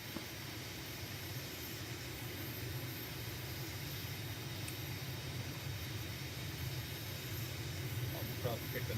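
Airliner engines roar at full takeoff throttle in Microsoft Flight Simulator, a steady broadband rumble and whine that holds evenly and swells slightly toward the end.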